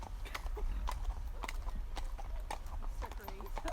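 Steady clip-clopping of horse hooves on a hard surface during a hack ride, close by, with a person talking over the top throughout.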